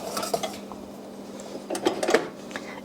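A metal spoon clinks and scrapes against a pot of thickened lemon curd as the pot is lifted off the stove. The clatter comes in short, close bursts with quiet gaps between them.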